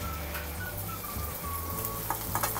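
Dry prawns with salt and spices sizzle steadily in a pan while a spoon stirs them, giving a close, continuous fry with light scraping clicks and no voices.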